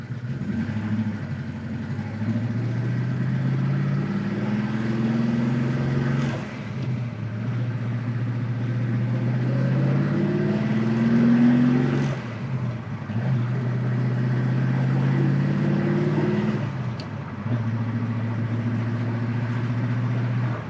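A 1965 Ford Mustang Fastback with a 5-speed manual drives along, its engine droning steadily up and down through the gears with brief dips at shifts, loud and continuous from inside the car.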